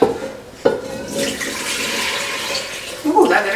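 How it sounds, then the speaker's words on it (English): Liquid ketchup mixture with vinegar being poured from one pot into another over a spice bag, a close, continuous splashing rush of liquid with a knock at the start. "I am gonna go ahead and dump this into a different pot so that the liquid covers our spice bag."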